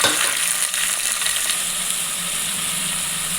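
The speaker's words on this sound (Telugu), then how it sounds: "ఆనియన్స్ బాగా ఫ్రై అయిన తర్వాత ఇప్పుడు టమాటాలు వేసుకోండి" Tomatoes go into a pan of frying onions and curry leaves for a spicy brinjal curry, giving a loud, steady, close sizzle with a constant hiss and no talking.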